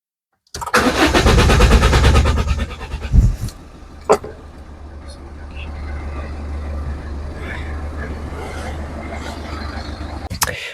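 A Citroën C2 diesel engine cranks loudly on the starter for a few seconds, catches with a couple of sharp bursts, then settles into a steady, close idle with no voices.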